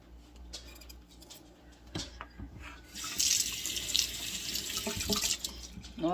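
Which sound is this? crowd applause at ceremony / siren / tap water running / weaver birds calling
tap water running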